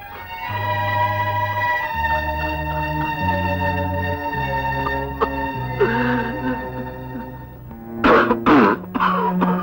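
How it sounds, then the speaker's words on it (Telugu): An old man coughs and clears his throat repeatedly in a movie scene, harsh rasping bursts close up over a steady droning background tone, growing louder and more ragged toward the end. "ఏమిటండి ఆ దగ్గడం?"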